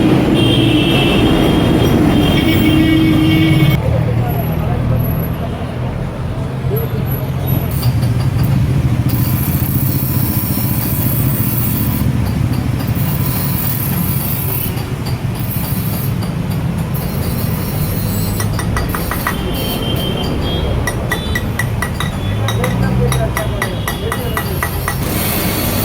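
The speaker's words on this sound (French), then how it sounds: "Là, il y a des rues à Kolkata, c'est vraiment infernal au niveau du bruit, klaxon à tout va." Loud, dense street traffic in Kolkata, India, with buses and scooters, a continuous roar of engines and road noise with metallic clinks and overlapping horns, close and unbroken throughout.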